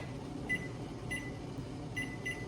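A kitchen timer being set beside a steamer of broccoli: a few short, faint electronic beeps, two close together then more after a pause, over a quiet room hum.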